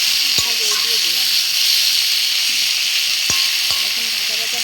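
Prawns sizzle in hot oil in a pan, a constant bright hiss broken by a few sharp clicks of a spatula or utensil against the pan.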